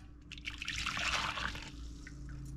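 Two cups of hot, just-boiled water poured into a container while cooking a Halloween meal, a soft splashing pour that swells and then trails off into a quieter trickle, heard close with no talking.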